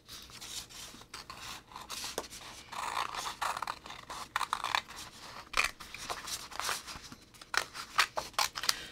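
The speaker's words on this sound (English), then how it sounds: "Now what we have to do is cut the pieces out." Scissors snip and slide through paper as pieces are cut out for kid-art cards, a series of close, crisp irregular cuts and rustles with no talking.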